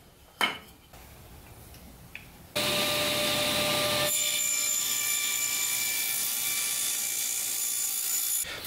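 A saw cuts a dado in wood for a birdhouse. A few quiet knocks and clatter come first, then a loud, harsh cutting roar bursts in and settles into a sustained whining drone.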